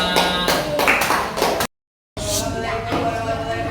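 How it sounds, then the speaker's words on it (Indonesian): A classroom audience claps together in a brief burst of applause, cut by a short gap of silence, then clapping resumes with voices mixed in. "Tepuk tangan."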